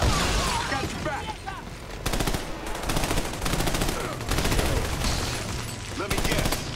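Rapid automatic gunfire crackles in bursts through a firefight in Army of Two: The Devil's Cartel on Xbox 360, loud and sustained with brief gaps between volleys.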